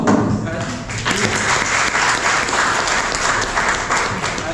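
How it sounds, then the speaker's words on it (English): An audience claps steadily to welcome a visiting lecturer to a university lecture, a dense, sustained round of applause filling the room for the full length at a fairly loud, even level. "we would like to welcome him with a big applause."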